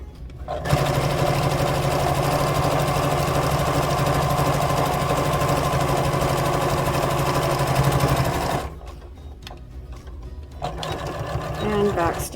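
A sewing machine stitches a lined couture patch pocket in a long, steady, close run, then stops briefly and resumes with a shorter burst of backstitching.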